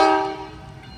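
A train running on the repaired North Track at East Palestine, Ohio, after the derailment, sounds a loud tonal horn blast that decays over about a second.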